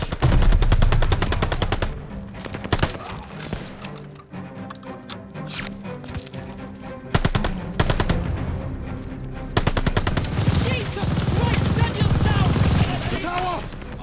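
Sustained machine gun fire in a WWII video game battle, rapid loud bursts crackling almost continuously, with shouted voices breaking in over the shooting.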